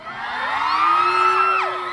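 A crowd of fans at a Chinese New Year talk event at Paragon mall lets out a sustained, high-pitched scream and cheer that swells and holds for about two seconds, loud and close.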